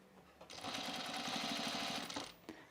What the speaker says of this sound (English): I'm just edge stitching this